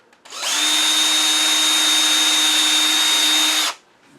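A power drill bores a hole through a small scrap-wood Christmas tree ornament, one steady high whine lasting about three seconds that starts and stops abruptly, loud and close.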